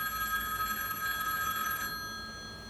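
An old-style telephone bell rings steadily in a bright, continuous trill for about two seconds at three in the morning, alone and moderately loud, then fades.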